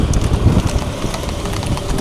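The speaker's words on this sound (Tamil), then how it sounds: "இரண்டாவது குதிரை துணை கோவை மூன்றாவது குதிரை கேடிஎஃப் பிரதர்" Horses gallop in a horse race in Coimbatore, a loud, close rush of rapid hoofbeats mixed with wind buffeting the microphone, with no clear talking.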